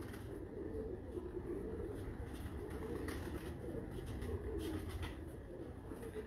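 Pigeons on a rooftop loft in Kasur, including a 24-numbered bird, coo in a steady low murmur over a dense, noisy background throughout.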